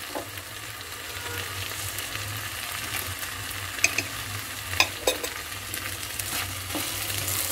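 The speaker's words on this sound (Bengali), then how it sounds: "ভালোভাবে নাড়াচাড়া করে চালটা ভুনা হয়ে গেলে বা ভাজা হয়ে গেলে" Rice stir-fried in a pan with salt and spice powder, giving a steady sizzle broken by a few sharp scrapes and clinks of the spoon, close and alone.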